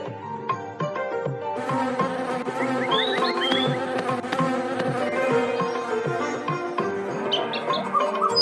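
Cartoon bees buzz continuously alongside bright musical tones and a few chirpy, bird-like squeaks, the buzzing steady and close throughout with no talking.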